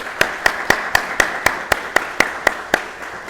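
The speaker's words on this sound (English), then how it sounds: "please give these guests of 1165 a round of applause." Slow, evenly spaced single claps ring out at a graduation ceremony, about eleven sharp claps in a steady rhythm, fairly close and without talk.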